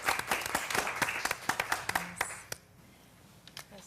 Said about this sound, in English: I feel like you deserve a round of applause.